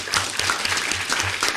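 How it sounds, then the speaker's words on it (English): A theater audience at a poetry reading and awards ceremony claps steadily for children, a short burst of dense, moderately loud applause from many hands. "Let's give a round of applause for these children."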